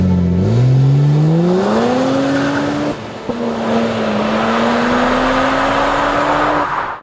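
A BMW 1 Series M Coupé engine revs hard and loud as it accelerates, pitch climbing through a gear, a brief dip at a shift, then pulling strongly again before fading at the end.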